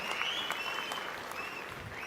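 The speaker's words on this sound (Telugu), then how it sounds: "గట్టిగా చప్పట్లు కొట్టి అభినందించండి" An audience at a government meeting claps steadily in a sustained round of applause, moderately loud and even, with little else heard.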